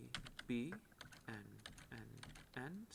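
Typing on a computer keyboard produces faint, quick key clicks beneath a person talking close by, with the clicks scattered between and under the spoken phrases.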